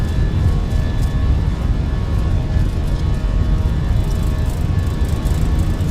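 Airbus A320 engines roar at takeoff power through the takeoff roll, a loud steady rumble with broadband noise heard from inside, with no talk.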